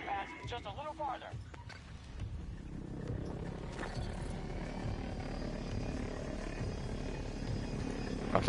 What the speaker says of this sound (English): I finally got a helicopter.